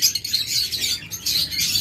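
Lovebirds, a full breeding pair kept for sale, twitter in steady high, scratchy chirps without pause, a close and continuous flock chatter.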